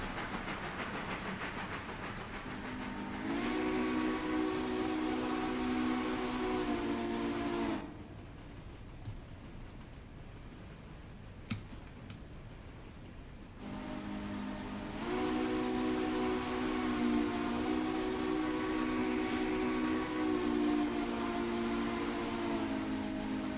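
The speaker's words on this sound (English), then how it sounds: "There, I whistled for the crossing." Steam locomotive whistle in the video game Railroader, two long loud harmonic blasts for a crossing separated by a quieter stretch of rolling train noise, with no talk.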